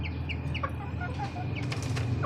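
Wings flap and chickens give short clucks and chirps over a steady background hum, close by and continuous.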